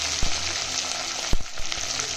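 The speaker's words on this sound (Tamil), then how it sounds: "அதை போட்டு இம்மீடியட்டாக வெங்காயம் போட்டுருங்க. கிராம்பு தெரிச்சு வெளியே வரும்." Onion frying in hot oil with cinnamon and cloves for pepper chicken, a steady loud sizzle with a few sharp pops and stirring knocks, close and without talk.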